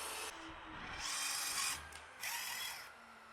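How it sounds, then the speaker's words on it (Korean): Power drill pre-drilling holes for steel screws in wood while installing a wooden step door trim, with bursts of high whining drilling separated by short pauses. "피스가 들어가는 자리에 미리 구멍을 이렇게 뚫어 놓으세요."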